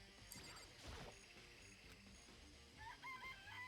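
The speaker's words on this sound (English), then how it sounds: "Chickens." Chickens in the game Danganronpa cluck and crow briefly, a short burst of bird calls near the end following clattering game sounds, fairly quiet overall.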